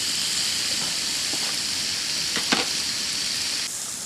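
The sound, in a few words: turkey pan frying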